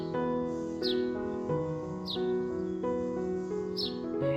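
Sharp, repeated chirps from a sparrow recur about once a second over a sustained tonal background melody.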